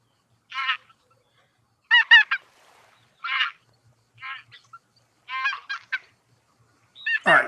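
Trumpeter swans call in a series of loud, nasal honking bursts, about six separate calls spaced a second or so apart, each a short cluster of brassy notes, with a final call trailing off at the end and no voices.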